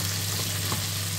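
Red onions and chilli frying in a pan, a short steady sizzle heard close, with a low electrical hum underneath.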